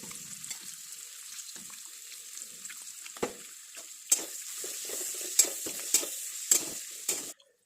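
Chopped ginger and garlic go into a hot pan for chilli chicken, giving a soft hiss and stirring scrapes, then several sharp clacks of a utensil against the pan near the end, close and moderate.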